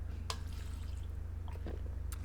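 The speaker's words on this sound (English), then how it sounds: "let me have a sip of water" Someone taking a quiet sip of water close to the microphone: a few faint, brief slurping and swallowing clicks spread over a couple of seconds, above a constant low hum.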